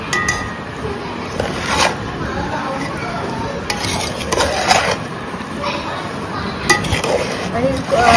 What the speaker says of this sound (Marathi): हे बघा तेल टाकून घेतलेलं आहे, आता मिक्स करून घेतो आपण.